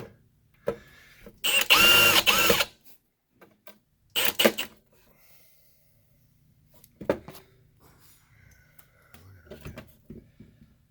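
A power drill drives screws into a duct heater in two bursts, a long one and then a short one, with faint handling clatter and quiet sounds afterward.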